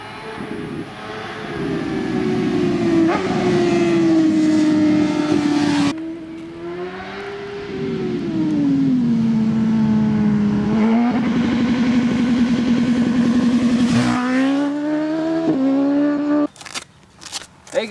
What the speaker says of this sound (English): let's mosey down the road. Let's test the bike.